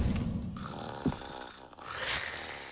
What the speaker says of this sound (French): il y a quelqu'un qui ronfle dans votre placard